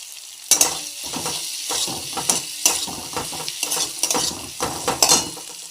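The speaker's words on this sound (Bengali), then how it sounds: "এর মধ্যে আমি আদা রসুনের পেস্টটা দিয়ে দিলাম" Onion, tomato, green chillies and ginger-garlic paste fry for a bhetki fish dish, with bursts of sizzle and a metal spoon scraping and clinking against the pan in an uneven stirring rhythm, close up and without speech.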